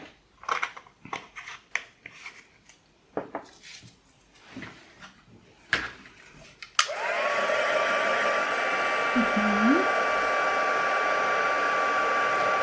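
Handling clicks and rustles on a craft table give way to a heat embossing gun that switches on abruptly and blows a steady loud whir while it melts embossing powder on vellum tags. A dog whimpers faintly in the background.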